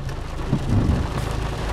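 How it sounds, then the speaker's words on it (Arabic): A strong thunderstorm in Agadir: heavy rain hisses steadily over a deep, rolling rumble of thunder, loud and continuous with no voices. "كما كتشوفوا عاصفة رعدية"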